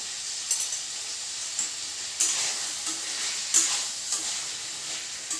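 Raw papaya curry fries in a pan with a soft, steady sizzle broken by several stirring scrapes and clicks, close and fairly quiet, with no voices.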